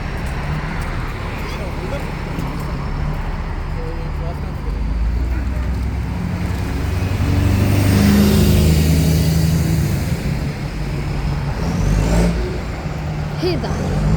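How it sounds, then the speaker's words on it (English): A bus with a worn, loud burst exhaust pulls away with a rough, rumbling roar that swells in the middle, heard amid steady roadway traffic noise. "That's a major bus exhaust."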